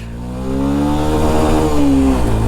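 Yamaha FZS hybrid motorcycle accelerating hard in first gear, its engine note climbing steadily in pitch as revs build over a couple of seconds, loud and close with no talk.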